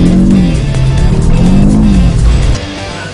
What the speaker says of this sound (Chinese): 踩油门，它直接进入甩尾模式